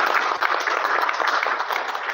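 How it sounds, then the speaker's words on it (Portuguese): Audience applause for a doctor at the close of his presentation at a Timor-Leste conference on international fraud and judicial errors, a dense steady wash of clapping holding evenly for about two seconds with no voices over it. "Vamos dar um aplauso ao Sr. Doutor Júlio"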